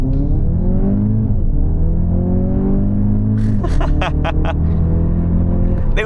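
An Audi Q3 accelerating in a quick sprint run, its engine note climbing steadily, dropping briefly at a gearshift midway, then rising again as a loud, continuous drone.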